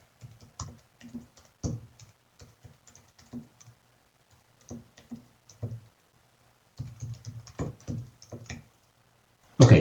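Someone types on a computer keyboard up close, producing uneven bursts of crisp key clicks separated by short pauses, ending with a louder clatter of keys; no one speaks.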